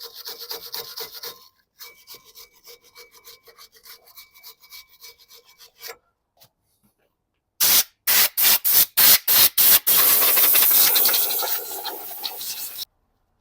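Brake cleaner sprayed around the front brakes of a Vauxhall Vivaro van, heard as a series of short loud hissing bursts followed by a longer sustained spray, after some earlier quieter rubbing.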